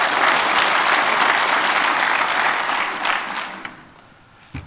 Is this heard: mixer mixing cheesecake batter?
no